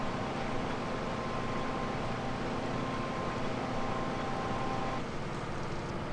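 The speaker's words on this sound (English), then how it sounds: "It's a massive tractor." Massive tractor engine droning steadily while seeding in Farming Simulator 17, a constant loud rumble with faint tonal hum, no talking over it.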